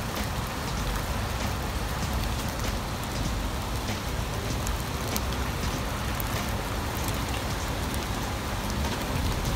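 Steady heavy rain pours outdoors near a house with a dog outside, a dense unbroken hiss of drops hitting surfaces with no voices.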